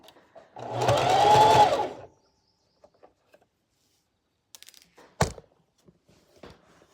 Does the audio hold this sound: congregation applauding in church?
no